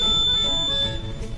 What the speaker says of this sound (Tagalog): So that's how to test power failure alarm for BNWAS.